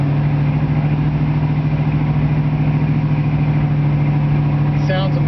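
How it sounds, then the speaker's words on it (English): A 1966 Ford Mustang convertible, an original six-cylinder T-code car upgraded to a new V8 with a new Flowmaster dual exhaust, idles with a steady, even low rumble, loud and close. "It's got a brand new Flowmaster dual exhaust. It sounds fantastic."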